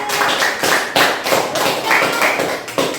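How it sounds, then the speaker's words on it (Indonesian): A classroom of students applauds for a classmate, a burst of irregular hand claps with sharp, close slaps repeating at an uneven rhythm, loud over faint background voices. "berikan tepuk tangan dong untuk Henry"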